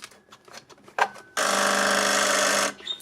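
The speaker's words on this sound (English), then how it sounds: "it does buzzes because it can't ring the bells." A harsh, steady electric buzz from an old PMG telephone sounds for over a second, close and loud, after some faint clicking, in place of a ringing bell.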